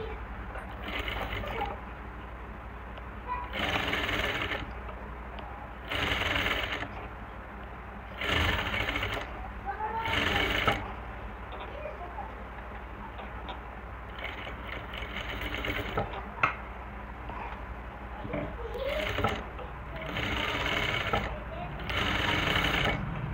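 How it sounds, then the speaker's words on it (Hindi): A sewing machine stitches a V-neck collar in repeated bursts of rapid mechanical whirring, each run stopping briefly before the next. A voice talks at times between and over the stitching. "चलिए मशीन पे मैं आपको सिलाई करना बताऊंगी"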